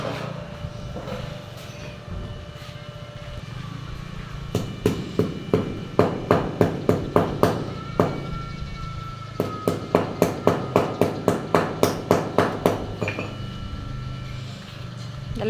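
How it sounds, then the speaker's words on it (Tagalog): Rapid metallic hammer strikes on a welded metal door ring out in bursts, a quick run of sharp clanks, a short pause, then another fast series of blows. "Martilyo."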